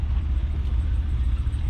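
A vehicle pushing through sagebrush off-road at a hunting camp, driven hard: a steady, loud low engine rumble throughout, close and continuous, with no voices.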